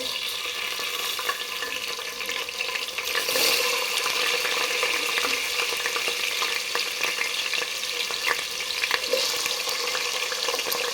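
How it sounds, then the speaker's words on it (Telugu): Potato pieces fry in a hot pan over a high flame, in oil tempered with cumin and mustard seeds, giving a continuous bright sizzle with crackles and occasional stirring scrapes and no talking. "ఆలు ముక్కలు కొంచెం దూరగా వేగాలన్నమాట"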